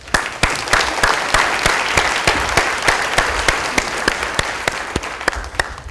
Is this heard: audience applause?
yes